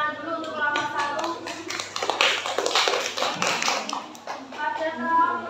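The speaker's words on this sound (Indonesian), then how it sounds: "beri tepuk tangan dulu untuk kelompok 1" A classroom of students claps for a discussion group, a burst of many hands clapping close together that continues steadily for several seconds with uneven loudness.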